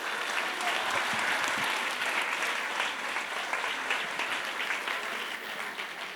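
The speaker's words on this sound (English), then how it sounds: "Give the Lord a clap offering." A church congregation claps as an offering to the Lord, a strong, sustained roar of many hands clapping together, close and loud, holding steady with no speech over it.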